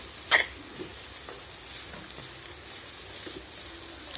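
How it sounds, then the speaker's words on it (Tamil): Finely chopped ingredients sauté in a pan for a homemade roll filling, with a soft, steady sizzle, one sharp clack near the start and a few faint stirring taps. No one speaks. "அதையும் சேர்த்து நல்லா பச்சை மணம் போகும் வரைக்கும் வதக்கி கொள்ளுவோம்."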